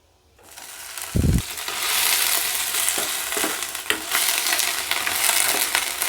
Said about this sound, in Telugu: మరొక స్టవ్ మీద ప్యాన్ పెట్టుకొని మెత్తల్ని ఫ్రై చేసుకోవాలి.